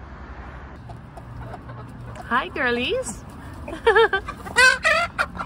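Backyard chickens, including a Black Copper Marans hen, cluck and murmur close by in calm conditions, with soft clucks throughout and a louder burst of calls, while a person greets them warmly.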